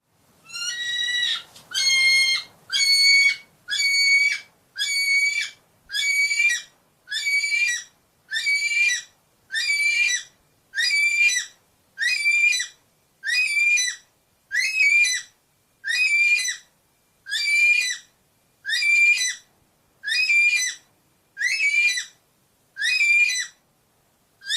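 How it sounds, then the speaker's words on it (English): Kiwi bird calling in a forest: a long series of about twenty shrill, rising whistles repeated at an even pace, each short and piercing, loud and close, with no other sound between them. "So, what does a kiwi actually sound like?"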